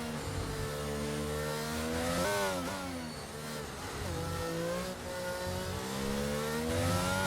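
Race car engines howl together in a sim racing league event at the Spanish Grand Prix. Several engines rise and fall in pitch as they rev and shift, a dense continuous roar at close range.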